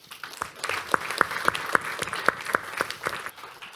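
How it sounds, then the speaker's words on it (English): A small audience at a corporate technology talk on enterprise identity infrastructure claps for an incoming speaker, a fairly soft patter with a few sharper, distinct claps standing out. "So please join me in giving a warm applause to Alessandro."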